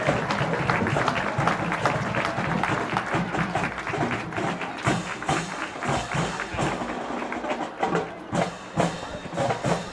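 A crowd at a county band festival applauds the Lincoln High School marching band outdoors in pouring rain, steady broad clapping that runs for several seconds and then breaks into scattered, sparser claps toward the end.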